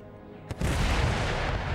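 Artillery fire in Empire Total War: a single sharp cannon report followed at once by a loud, sustained low booming roar that fills the rest of the moment.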